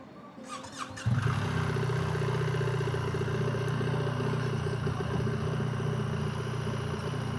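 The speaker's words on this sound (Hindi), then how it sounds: "तो अभी हमने मेहुल भाई की बाइक में डैम्पिंग सेट करी है, तो अभी देखते हैं कितनी चलती है" A motorcycle, an R1300 with freshly adjusted suspension damping, starts with a clatter then settles into a steady, close engine drone as it rides off, loud and continuous with no talk.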